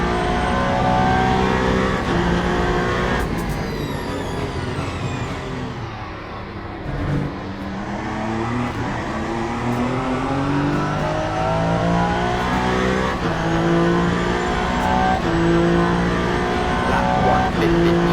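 A Mercedes GT3 race car in the Le Mans Ultimate endurance race at Bahrain screams through the gears, its engine rising and falling in long revving sweeps with a brief lift mid-run, loud and continuous, with other cars faintly around it.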